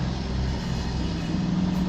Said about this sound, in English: I think that was a loud car on the carretera.